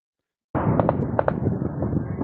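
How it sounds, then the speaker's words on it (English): A sudden burst of distant gunfire during an attack on the port of Novorossiysk, Russia, opens a rumbling blast, with a few sharp cracks popping through the continuing roar. "Again, you can hear the gunfire going off."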